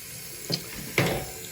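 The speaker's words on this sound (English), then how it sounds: "rinse out this sponge a little bit" Water runs from a kitchen tap while a Brillo pad used on stainless steel is rinsed, a steady close hiss with two brief splashy surges as the pad moves under the stream.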